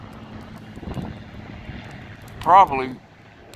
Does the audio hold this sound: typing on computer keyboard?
no